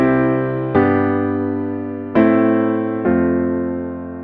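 Solo piano plays a familiar pop-style chord progression that includes a minor chord, with full voicings over low bass notes; four chords struck at uneven intervals, each sustained and fading.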